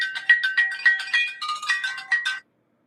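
A phone ringtone plays a bright repeating melodic chime in regular pulses for about two and a half seconds, loud and close, then cuts off abruptly into silence.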